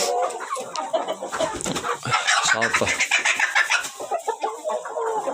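A hundred or so hens and chicks cluck continuously in a cramped coop, a dense, close chorus of overlapping calls, with a voice briefly heard among them.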